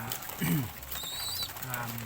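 Pet pigeons, including grizzle and blue bar birds, coo in low, throaty warbling calls nearby, mixed with faint chirps and a background voice.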